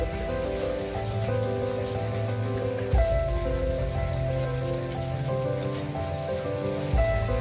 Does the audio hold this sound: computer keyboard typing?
no